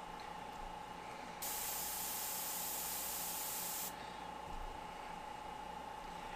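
An airbrush sprays paint in a steady hissing burst of about two and a half seconds, set between quieter stretches of a fainter background hiss, with no voices.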